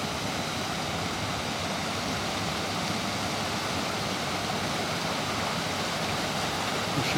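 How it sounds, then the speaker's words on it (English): Water pours steadily over a river weir into the weir pool below on Cod Beck, a dense, broad roar holding constant and fairly loud throughout with no voices. "And there's a delightful weir and weir pool here."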